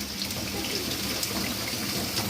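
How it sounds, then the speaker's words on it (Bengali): Onions drop into hot oil in a home kitchen and set off a dense, steady hiss and crackle of sizzling that stays even and close throughout. "এখন আমি এই যে এই পেঁয়াজগুলোকে আমি তেলের উপর ছেড়ে দেবো"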